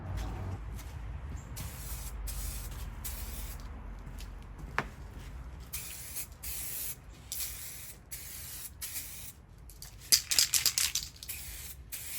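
Steady hiss of a Spray Max 2K Clear Glamour aerosol can applying clear coat to Escalade door handles in long continuous bursts with short pauses, close by, ending with a few sharper sputters.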